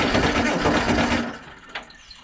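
Allis-Chalmers D17 diesel tractor engine running with a little throttle, a steady, close, dense rumble that drops back toward idle near the end.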